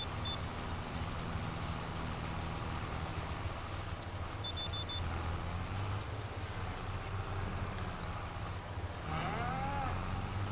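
Cows moo repeatedly in a farming video game barn, their low drawn-out calls layered over a constant dense background of livestock noise, loud and close throughout with no talk.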